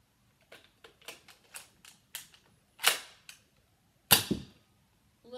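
Nerf blaster fired outdoors at a dartboard-style target, a run of sharp snapping clicks and pops, close and distinct, ending in two louder shots with short gaps between.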